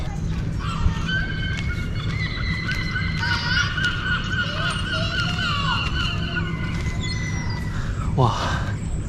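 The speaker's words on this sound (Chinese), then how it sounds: "能听到的都是海鸥的叫声" Seagulls call repeatedly at Land's End on the Cornish clifftop, a chorus of near and distant cries over steady wind noise, with people talking in the background.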